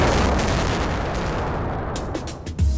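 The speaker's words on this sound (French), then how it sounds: "le sautage est déclenché" An explosive blast set off in an open-pit mine, heard from a distance as a sustained low rumble, then a couple of sharp cracks near the end.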